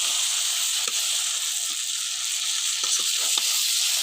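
Beef lung bhuna sizzling in a pan as broth is added: a loud, steady frying hiss fills the whole stretch, with faint clicks of stirring scattered through it and no talk.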